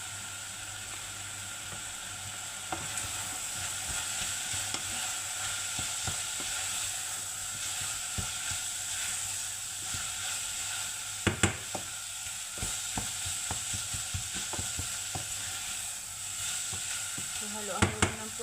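Chana dal curry with tomatoes, garam masala and turmeric sizzles steadily in the pan while a spoon stirs through it, with a few louder scrapes and clacks near the end.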